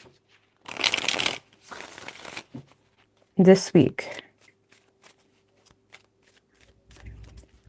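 Tarot cards are riffled in two bursts of crisp papery shuffling, then a person speaks briefly as the cards are handled again.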